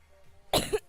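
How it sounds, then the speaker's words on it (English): A person coughs twice in quick succession, close and loud, during a live stream, after a moment of faint background noise. "I coughed on you again, how?"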